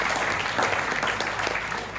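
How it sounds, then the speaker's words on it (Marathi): Loud, steady applause from an audience at a contest prize distribution, dense clapping sustained throughout without a break. "जोरदार टाळ्या तोडकर साहेब"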